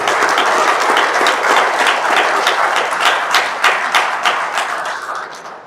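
An audience at the opening of a sports event gives a big round of applause, dense and close at first, then thinning into separate claps that fade out.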